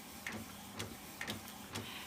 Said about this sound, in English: my printer's starting to print